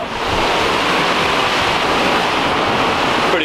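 Gale-force wind at sea aboard the Cunard liner Queen Mary 2, a loud, roaring rush of air buffeting the microphone, mixed with the wash of churning waves, constant and unbroken with no talk.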